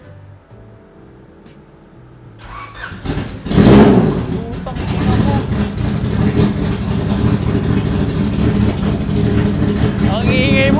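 A 1998 Honda Civic SiR engine fires up after a quiet idle-like hum, then runs loud and rough with uneven revving that sounds like a misfire, close by, while a man swears and others talk over it.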